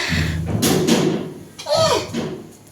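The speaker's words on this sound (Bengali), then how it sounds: "কেউ না, বাতাস আওয়াজ করছে দরজা।" A household door knocks and bangs as the wind catches it, giving a few dull thumps close by, with people talking over it throughout.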